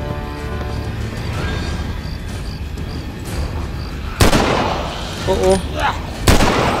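Rifle fired in the video game The Walking Dead Survival Instinct, a few loud sharp shots standing out from a noisy game background, with a brief exclamation from a voice.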